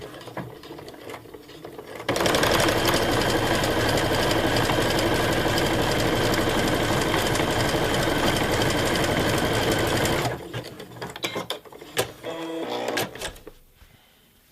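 A sewing machine stitches fabric in one loud, steady run of about eight seconds. Clicks and handling noises follow, and no one speaks.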